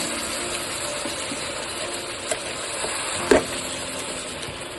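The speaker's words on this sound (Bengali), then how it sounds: "এবার ভালো করে নাড়াচাড়া করে নিয়ে সামনে একটু জল দিতে হবে" A spoon stirs a potato and stem curry with tangra fish in a pan, giving a steady low sizzle with soft scraping and a couple of sharp clinks or splashes near the end, with no talking.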